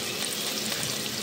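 Potatoes for a chop curry filling frying lightly in a pan over lowered gas, a steady dense sizzle with soft crackle running without pause for the whole short stretch, fairly close and with no one speaking.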